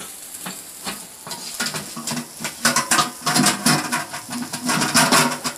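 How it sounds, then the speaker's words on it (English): Spicy marinated pork ribs sizzle and crackle on a charcoal grill as they are flipped. The hiss is steady and close, with scraping and clatter that grow louder toward the end. "You guys could hear that sizzle."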